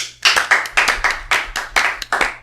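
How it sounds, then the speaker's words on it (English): A small group claps in a podcast studio, about seven or eight distinct, fairly loud, evenly spaced bursts of clapping over a couple of seconds with no talking. "I think this is where people clap."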